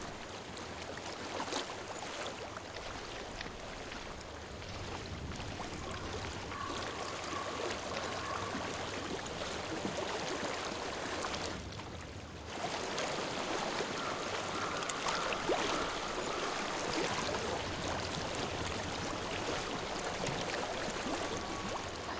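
A flowing stream in the video game Hellblade: Senua's Sacrifice rushes steadily as a broad, continuous wash of water. It is moderately loud with no talk, and there is a short dip midway.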